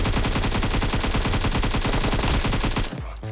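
Rapid automatic gunfire from the BGMI (PUBG) battle royale game: a loud, dense stream of shots fired in quick succession for about three seconds, then abruptly cutting off.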